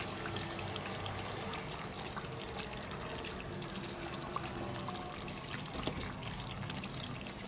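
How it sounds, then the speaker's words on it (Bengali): Milk is poured into a pan of Rajasthani dum aloo curry, a faint, steady liquid pouring and trickling sound that runs evenly throughout without talk. "আমি কিন্তু সস সমেত 2 বাটি দুধ দিচ্ছি।"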